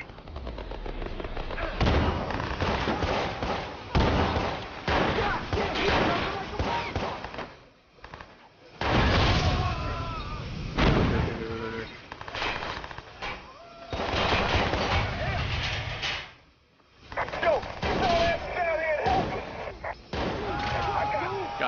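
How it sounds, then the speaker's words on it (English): Repeated shotgun blasts in the video game Watch Dogs, loud bursts coming in clustered volleys with short gaps, mixed with game action noise while someone talks excitedly over the gunfire. "Shotgun."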